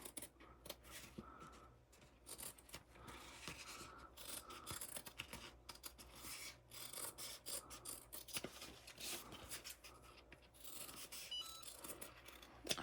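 Scissors snip and rasp through fabric, cutting just outside a drawn line, a steady run of quiet scratchy cuts close to the ear with no talking.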